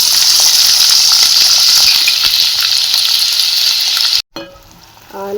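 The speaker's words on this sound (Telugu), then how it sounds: "ఆనియన్స్ బ్రౌన్ కలర్ వచ్చేంత వరకు వేయించుకోవాలండి." Onions frying in oil with cumin, mustard seeds and green chillies give a loud, dense, steady sizzle up close, then cut abruptly to softer crackling and stirring.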